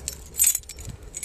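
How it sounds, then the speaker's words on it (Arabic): A bunch of keys jangling close by, a few bright metallic clinks and rattles with one louder shake near the middle, short and brisk, with faint low background noise and no talking. "دائما بتخربش من كثر المفاتيح اللي معي"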